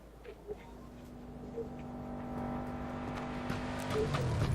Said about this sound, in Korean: 차소리 차소리